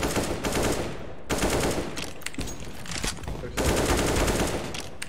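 Gunfire in the PC video game PUBG: dense bursts of rapid automatic shots with short gaps between volleys, loud and continuous, no talking over it.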